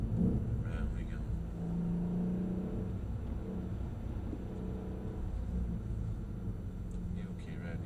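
A Mercedes-Benz E63 AMG circles a track at Brooklands, its engine a low, steady rumble heard from inside the car, with people talking quietly over it.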